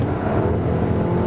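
A Skoda Octavia RS 245 with a manual gearbox in sport mode accelerates at full throttle in second gear, giving a steady, loud engine drone and road roar throughout with no break.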